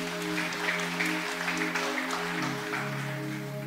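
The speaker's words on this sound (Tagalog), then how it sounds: "Pumalakpak nga po yung mga nagmamahal sa Panginoon." A church congregation claps together during a worship service, a steady even patter of applause over a sustained organ-like musical tone, moderately loud and continuous.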